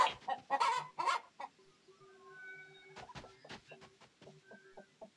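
Chickens in the farming video game Coral Island cluck and cackle in short, quiet bursts, with several sharp calls at the start and scattered softer clucks over a faint steady hum.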